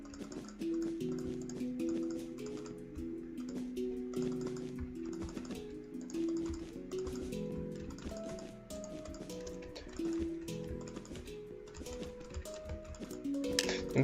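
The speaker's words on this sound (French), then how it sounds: "désolé pour les bruits de clavier si vous les entendez" Computer keyboard typing during a Minecraft multiplayer session, scattered soft clicks under ongoing game music with a steady tune, faint and in the background throughout.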